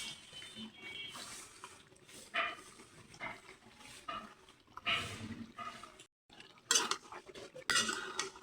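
Beef and potatoes sautéed in a pan, faint sizzling with irregular spoon clinks and scrapes against metal, fairly quiet and close, with a dog barking in the background.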